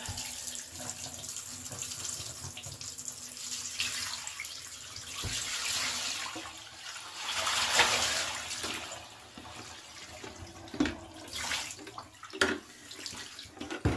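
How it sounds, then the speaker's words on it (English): Dirty wash water from an alpaca fleece drains out of a bathtub in a steady, rushing flow, with splashy surges and occasional clunks over the continuous watery noise. "you can see just how filthy that water is that's coming out"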